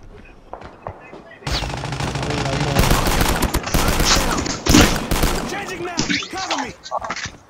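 Machine gun and shotgun fire in a shooter game: bursts of rapid automatic gunfire and sharp blasts, loud and close, with a voice talking over the shooting.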